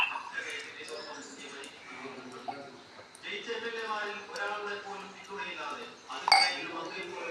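Ice water in a container gives off light, irregular clinks and chinks of ice against the sides, heard close and mostly faint beneath ongoing talk.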